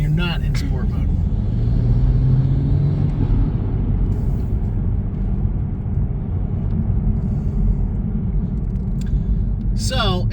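Toyota GR Supra MK5 (2022) with a new aftermarket intake, turbo whooshing over a loud steady engine rumble from inside the cabin, with a rising tone early on and speech mixed in.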